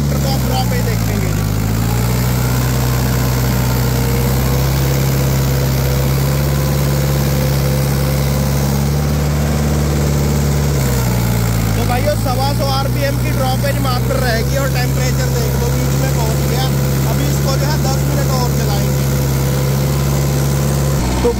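A Mahindra 575 XP Plus tractor engine runs steadily in high gear, a loud, low diesel drone with a brief dip in pitch, while someone talks over it throughout.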